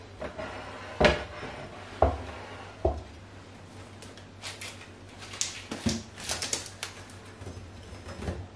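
Removing a black-eyed bean tart from its metal baking tin gives a few sharp clanks and taps, spaced about a second apart, then a looser run of lighter clatters and scrapes in a quiet kitchen.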